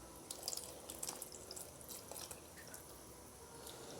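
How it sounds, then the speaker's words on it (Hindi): Warm milk cooked with two tablespoons of butter being poured into fruit cake batter, a faint trickling and dripping liquid sound with small splashes, quiet and close, with no voices. "अब हम इसमें दूध ऐड करेंगे, जिसमें हमने 2 टेबलस्पून बटर ऐड करके उसे कुक किया था।"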